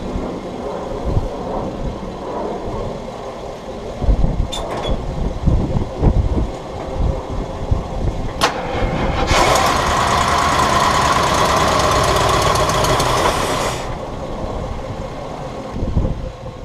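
Used farm plow truck engine cranking and catching, with clunks and knocks, then a loud steady roar as the motor runs for several seconds before settling back to a rougher idle.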